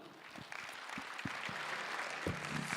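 Congregation in a Sunday afternoon church service at a Gwangju church breaks into sustained applause, a steady wash of clapping with a few low thumps, fairly loud and continuous throughout.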